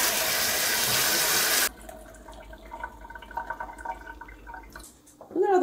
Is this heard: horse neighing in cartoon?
no